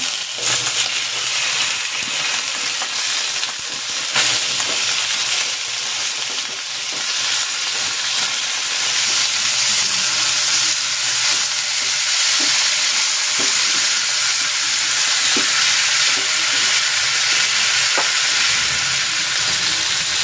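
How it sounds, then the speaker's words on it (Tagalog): Chicken legs frying in hot cooking oil, a loud, dense, unbroken sizzle that holds steady throughout with faint scattered crackles and no voices. "Ilalagay ako ng cooking oil. Sasalang ko na tong chicken."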